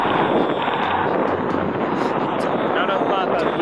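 Steady, loud wind roaring across the microphone during a long-distance charity bike ride, continuous rushing noise throughout with faint speech-like sounds beneath it.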